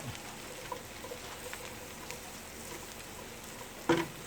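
Cabbage and country sausage fry in a pan, a quiet, steady crackling sizzle with a few soft pops and one brief louder clatter near the end.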